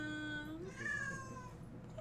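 A cat lets out a single drawn-out, wavering meow that rises and falls over about a second, fairly close, over a low background hum.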